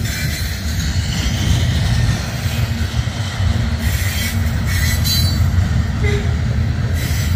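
A CSX grain freight train labors up a hill close by, its locomotives sending out a continuous heavy low rumble while faint wheel squeals cut in now and then over the steady roar.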